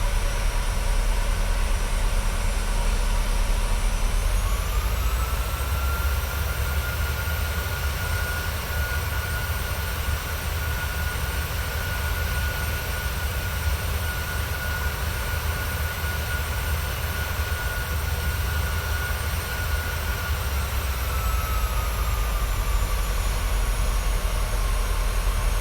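Steady, loud jet engine roar of a Boeing 737-600 in a PMDG flight simulator, continuous and even as the throttles come back, with a faint tone gliding down near the end and no talking.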